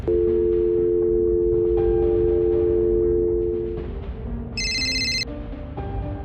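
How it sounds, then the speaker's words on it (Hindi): A phone rings out with a steady electronic tone over a low background hum, followed by a brief, brighter chiming burst. "आलोक अपना फोन निकालता है और गुल्ली के पास कॉल करता है।"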